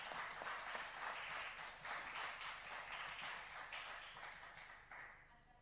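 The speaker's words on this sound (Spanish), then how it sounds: "els donem un aplaudiment" An audience at a debate on music and forced migration applauds steadily, a dense, even wash of many hands clapping that carries on throughout before tapering slightly at the end, heard from a distance at low level.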